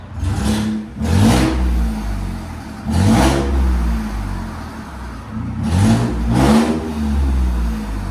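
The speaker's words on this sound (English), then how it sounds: "Ford F-150 EcoBoost with Carven R side pipe. Here's sound decibels." Ford F-150 pickup with a 2.7L EcoBoost engine and Carven R-Series side-pipe exhaust, an EGR tube leak present, revving in loud repeated bursts that rise and fall over a steady idle rumble, with no talking.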